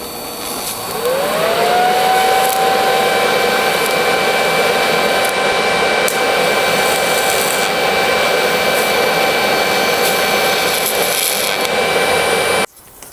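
TIG welding silicon bronze filler rod onto a cracked, leaking steel gas tank: a steady, loud hiss and hum with a rising tone at the arc start, holding constant for about twelve seconds before cutting off abruptly.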